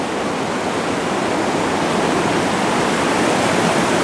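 Flood-swollen creeks feed a river, their water roaring in a loud, unbroken rush with no pauses and no voices.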